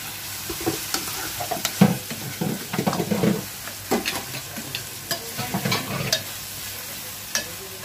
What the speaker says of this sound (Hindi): तेल में ही पकेगी ये, पानी बिल्कुल नहीं डालने का इसमें, और स्लो पे पका